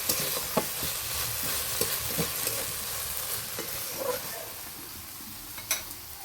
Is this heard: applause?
no